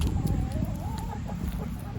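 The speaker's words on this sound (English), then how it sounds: "Our chickens got out. Hello, chickens." Chickens cluck softly nearby, with a low murmuring of clucks and faint background noise throughout.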